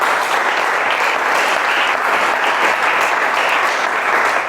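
A church congregation applauds in dense, continuous clapping that holds at an even, loud level throughout with no pauses.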